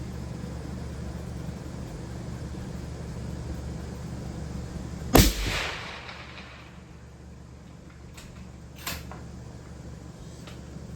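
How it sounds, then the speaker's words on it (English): A single sharp, loud rifle shot at a 1,000-yard target outdoors, a sudden crack followed by a brief decaying rumble over steady background noise, then quiet with a few faint clicks. "Let me shoot it one more time."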